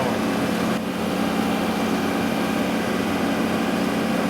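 A John Deere 2038R compact tractor with an offset flail mower drones steadily and loudly while cutting a ditch bank, a dense continuous engine-and-rotor roar with no letup and no voices.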